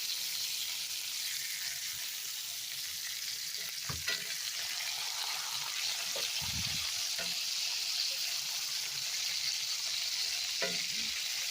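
Lamb chops searing in a hot pan, a steady bright hiss of frying fat throughout, with a few soft clanks and scrapes of the pan or utensil, moderately close, no talking.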